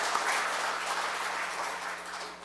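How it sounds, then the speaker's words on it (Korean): Audience applause at a Korea University labor-management-government forum, a steady wash of clapping from a crowd in a hall, moderately faint and sustained throughout without voices over it. "바로 옆에 계신 여러분들을 위해서 한번 박수 올리겠습니다."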